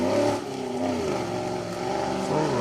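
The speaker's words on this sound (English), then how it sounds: "Now we see the TR7 V8 of Graham Thatcher and Tim Samuel coming through." A Triumph TR7 V8 rally car drives through a forest stage, its V8 engine rising and falling as it shifts through gears, heard clearly at moderate distance with no talking.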